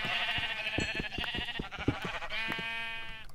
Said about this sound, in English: That sheep scared me.